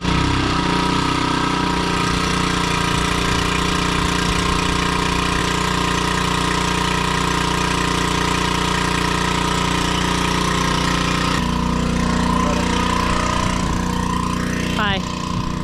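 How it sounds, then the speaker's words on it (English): A small engine on a portable livestock water pump runs steadily at close range, loud and droning throughout, with a brief squeal near the end. "we'll go ahead and kick this pump on"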